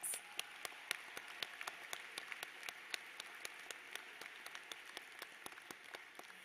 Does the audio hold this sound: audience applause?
yes